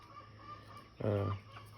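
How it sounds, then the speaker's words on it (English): A Buff Orpington and Welsumer cross rooster gives a single loud, close cluck or short call, standing out over quiet farmyard background. "he turned out to be a rooster"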